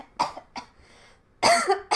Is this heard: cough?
yes